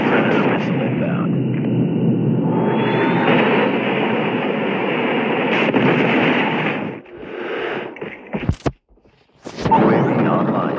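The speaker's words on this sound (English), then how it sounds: "Advised, hostile predator missile inbound. Friendly predator missile inbound." Gameplay audio from a Call of Duty match: a dense, loud rumble of battle noise with a predator missile bearing down, heavy and sustained for about seven seconds, then breaking into sharp bursts and brief near-silences before the roar returns.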